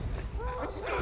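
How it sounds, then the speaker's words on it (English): A creature in Shadow of Mordor gives a short, rough, dog-like growl with whimpering tones, close and brief, lasting about a second. "A growl!"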